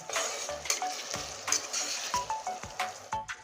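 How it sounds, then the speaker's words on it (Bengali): Onion and garlic fry together in a pan for a chicken curry, a steady close sizzle broken by sharp clinks and scrapes of a spoon against the metal at irregular intervals. "পেঁয়াজ রসুন একসঙ্গে এখন ভেজে নেব"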